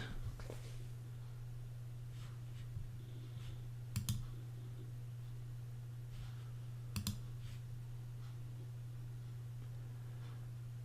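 A computer mouse gives two crisp, sharp double clicks, a few seconds apart, over a steady low electrical hum with no speech.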